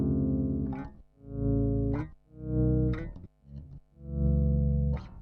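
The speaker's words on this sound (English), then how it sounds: "dynamic effects like slow attack if you want to have like fade in sounds" Bass guitar notes played through a Zoom MS-60B+ slow attack effect, each note swelling in gradually from silence before cutting off, about five separate fade-in notes alone without talk.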